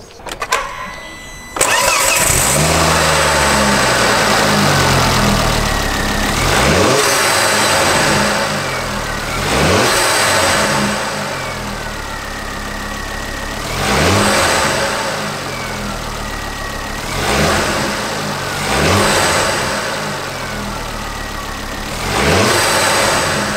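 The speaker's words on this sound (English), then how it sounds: "let's turn the car on and uh, see what happens" A turbocharged car engine fitted with a Pro Setup 5251 aluminium induction kit starts up loudly nearby, then idles and revs in repeated surges, rising and falling every few seconds.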